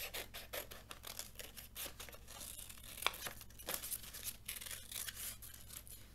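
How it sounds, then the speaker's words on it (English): Scissors snipping through paper while shapes are cut out for a paper lion craft, a quiet series of quick crisp cuts and crinkles in an irregular rhythm, close up and faint, with no talking. "I'm going to be very careful when using my scissors"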